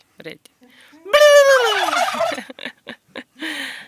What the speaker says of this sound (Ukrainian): Ось цей індик найбільший